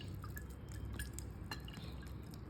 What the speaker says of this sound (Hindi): थोड़ा थोड़ा पानी दे देते हैं।